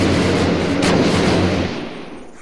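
Warthog gun firing in the video game Unturned, a dense, loud burst of heavy booming fire filling the first second and a half before tailing off, with no talk.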